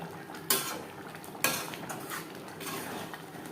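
A spoon mixes garam masala into a cauliflower curry in a metal pan: two sharp clanks ring out early, followed by quieter scraping and stirring over a low background sizzle.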